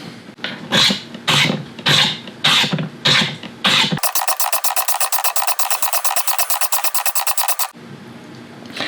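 A knife is drawn across a fine sharpening stone, set up as recommended at Spyderco. Close, loud strokes first come as about six separate rasping passes, then as a fast, even run of short rubbing strokes, with no voices.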